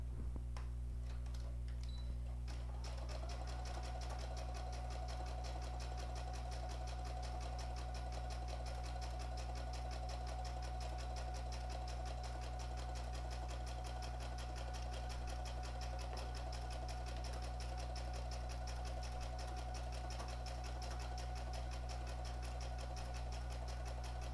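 A sewing machine stitches around the edge of a felt heart, a steady, quiet mechanical whir with a fine rapid ticking that runs unbroken for the whole stretch, without any voice.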